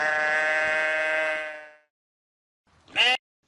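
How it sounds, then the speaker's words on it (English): A domesticated sheep gives a long, drawn-out bleat lasting over a second, close and clear, then a short second bleat follows after a pause. "Sheep or domesticated sheep are domesticated"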